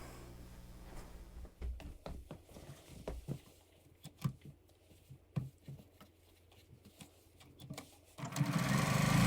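A sewing machine stitches a fabric scrap onto a foundation-pieced scrap quilt block in short, uneven bursts of rapid needle clatter, then runs into a louder, steady whirring stretch at the end.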